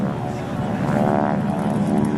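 Two SNJ propeller trainers roar past together on a photo pass at an airshow, a loud, steady droning engine rumble that builds slightly and holds throughout.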